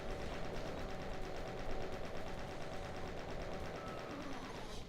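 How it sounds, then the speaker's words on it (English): Rapid, steady chaingun fire in Doom II, a continuous close burst of evenly spaced shots running without a break and with no talk. "take out the demons, and we also have ourselves now a chain gun"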